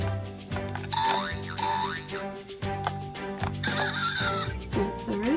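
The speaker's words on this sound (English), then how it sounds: "That's the rooster." A children's toy sound stamper plays an electronic rooster crow among bright synthetic chirps, whistles and boing-like tones, all close and loud with no voices.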